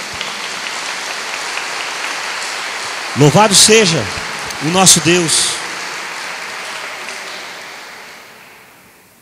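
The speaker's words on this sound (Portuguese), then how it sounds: "Pode bater palmas para o Senhor, ele merece" A church congregation claps in praise during a worship service, a soft, rain-like patter running throughout while a voice speaks over the middle, the clapping fading away at the end.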